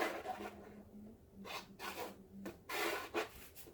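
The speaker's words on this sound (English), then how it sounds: "This is just a plastic scraper." A plastic scraper drags across wet acrylic pearlescent paint in a dirty pour, giving close, soft rasping strokes in several separate bursts with short pauses between them.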